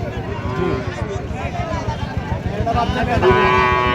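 Cattle mooing nearby at a cattle market, with low drawn-out calls rising over steady background chatter and outdoor bustle.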